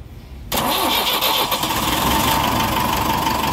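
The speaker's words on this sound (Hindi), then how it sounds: "क्रैंकिंग करो, चालू करो।" A Tata 1109 LPT BS4 truck diesel engine catches abruptly after a brief quiet moment and settles into a loud, steady close idle.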